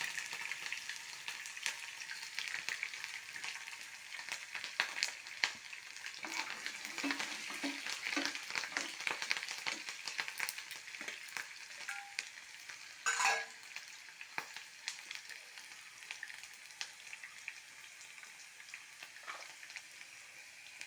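Mustard seeds pop and splutter in hot oil in a frying pan alongside ginger and green chillies, a continuous sizzle dotted with sharp crackles and stirring scrapes, with one louder clatter midway.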